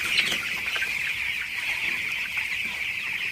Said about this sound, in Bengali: আমার মুরগিগুলা কিন্তু মাশাআল্লাহ খুবই ভালো আছে, সুস্থ আছে